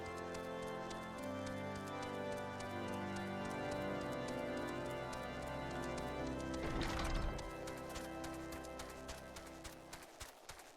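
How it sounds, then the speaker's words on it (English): Chocobo footsteps climbing stairs in Final Fantasy XIV, a quick steady patter of clip-clop steps over game music, with a brief whoosh near the end. "Chocobos are very good at climbing stairs."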